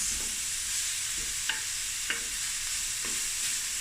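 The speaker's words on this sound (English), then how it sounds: "So we're going to just stir fry this. Onions" Onions stir-frying in a pan, an even, moderate sizzle with a few sharp spatula scrapes and taps spaced through it.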